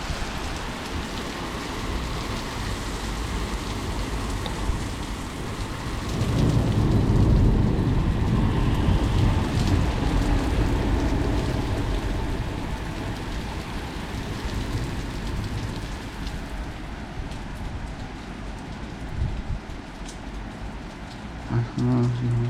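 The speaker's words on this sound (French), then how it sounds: "C'est pas encore, la pluie n'est pas encore extrêmement forte, mais elle arrive." Heavy rain pours steadily through a severe thunderstorm in August, a dense, loud hiss that swells stronger midway and holds constant, recorded on a GoPro Hero 8 with no clear voices above it.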